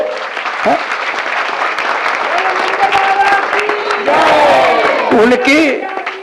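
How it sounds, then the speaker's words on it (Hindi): Audience clapping during a devotional Bhagavat katha gathering, a steady wash of hands with a sung or spoken voice weaving over it and a louder surge near the end. "ताली तो बजा दो"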